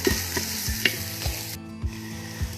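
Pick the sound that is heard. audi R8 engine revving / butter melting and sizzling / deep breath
butter melting and sizzling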